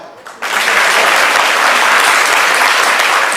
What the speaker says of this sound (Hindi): सब ताली बजाओ।